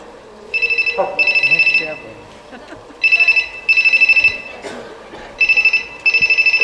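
A telephone rings onstage during a Marathi stage play, loud and close, in three pairs of bright trilling bursts with short pauses between them.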